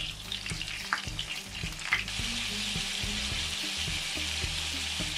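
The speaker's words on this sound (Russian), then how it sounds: "Все, котлеточки мои жарятся." Meat cutlets fry in a pan at home with a steady, close crackling sizzle, light clatter and stirring noises over the top, and no talking.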